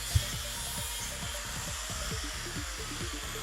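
An angle grinder cuts through leaf spring steel, giving a steady, continuous grinding whine with a rough rasping texture that holds throughout at close range with no voices.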